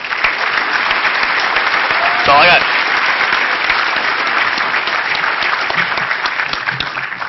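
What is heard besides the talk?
applause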